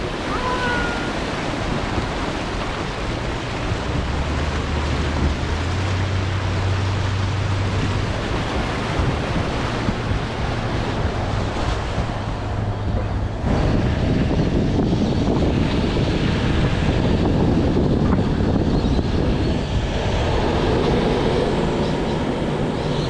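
Vehicle fording the Hand River on a dirt track crossing, heard from inside the cab with windows up: a steady loud rumble of engine and water wash, swelling into heavier surging splash partway through.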